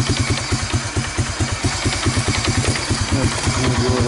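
A small Hammerhead cart engine idles with its choke being adjusted, a loud close rhythmic putter with steady pulsing firing that shifts slightly toward the end.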